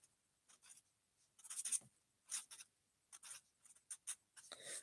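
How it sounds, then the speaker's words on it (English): A pen writing on paper, close and quiet: short scratchy bursts of strokes and pauses in an irregular rhythm, with no talking. "I'm just going to write down that."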